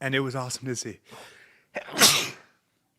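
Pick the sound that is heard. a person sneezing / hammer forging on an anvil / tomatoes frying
a person sneezing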